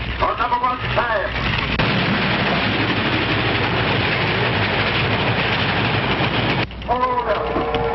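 A loud, steady roar and rumble of a train running on rails fills most of the clip, with voices talking briefly at the start and end.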